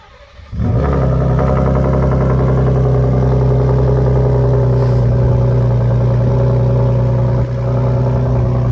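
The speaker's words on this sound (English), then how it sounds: "Ooh, that sounds good, doesn't it? I mean, it is just a high-powered V6" A 2022 Ford Raptor's high-powered V6 with a 37-inch tire package starts up and revs, then settles into a loud, steady, throaty drone heard up close from inside the truck with no talking.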